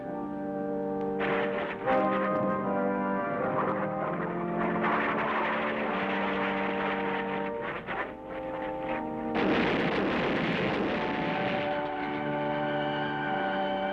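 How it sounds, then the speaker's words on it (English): Warplane diving and breaking apart in a WWII Okinawa newsreel: a loud, continuous roar with layered tonal whines and crashing bursts, rising again into a dense blast near the end, with no talk. "A plane dives toward destiny, disintegrates in explosive agony."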